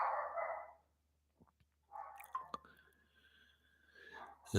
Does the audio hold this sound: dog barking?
yes